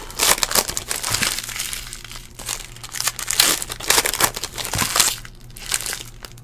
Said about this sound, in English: taking all the packs, opening up all the packs